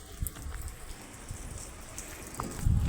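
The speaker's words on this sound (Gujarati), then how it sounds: "વરસાદ પણ ચાલુ થઈ ગયો" Rain falls softly and steadily outdoors during a trip to a relative's house, faint and diffuse, with a few nearer drops and a low thump at the end.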